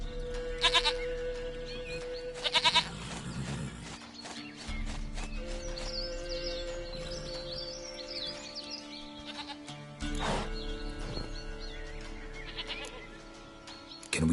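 A goat bleats several times in The Witcher 3 amid game ambience with horse hooves and whinnies, the calls loud and near in short bursts over a steady background.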